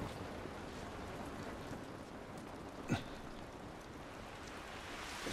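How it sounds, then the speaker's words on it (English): Continuous rainfall in The Last of Us Remastered, a soft, even hiss of drops with a single brief knock partway through, faint and steady without speech. "This rain ain't gonna do us any good."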